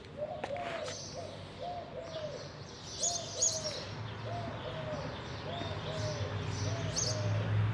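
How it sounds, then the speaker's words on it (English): Pigeons coo in spring in repeated soft, rounded phrases close by, while other birds chirp and twitter higher up over a low outdoor background hum. "Pigeons."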